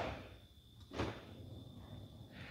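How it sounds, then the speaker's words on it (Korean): Power sliding door on a van opening while a motorized side step extends, a faint mechanical whir with a brief louder thunk near the start and a soft motor hum continuing after. "도어도 열리고 발판도 나옵니다."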